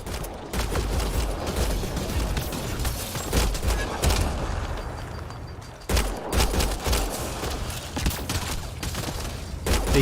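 Sustained gunfire in the video game Mass Effect Andromeda, loud rapid bursts of shots rattling continuously with a short lull near the middle before the firing resumes.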